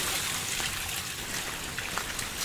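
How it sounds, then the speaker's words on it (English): A small waterfall trickles in the Cranberry Wilderness, a steady hiss of running water with faint drips, heard alone. "find kind of a cool spot over here, a little waterfall or a trickle of a waterfall"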